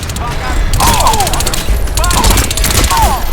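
Enemy gunfire in the shooter game Crysis 2: loud, rapid automatic bursts crackling in repeated volleys, with someone speaking Polish over them.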